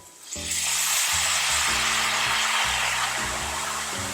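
A loud, steady sizzle bursts up as white wine hits a hot pan of sausage risotto, hissing continuously with a low stirring clatter underneath.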